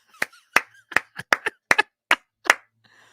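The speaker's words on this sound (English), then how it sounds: "I'm clapping myself" A single person clapping his own hands, about nine sharp, close, separate claps in an uneven rhythm, with nothing else underneath.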